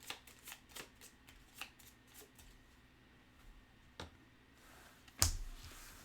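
Cards from a deck in the Pathfinder Adventure Card Game are handled on a table: a run of soft, quick card snaps and flicks, then a louder brushing slide near the end, close by and with no talking.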